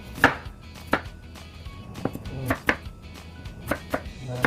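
A knife slices through an onion on a cutting board while preparing ginisang ampalaya, giving about nine sharp, close chops at an uneven pace with quiet gaps between strokes.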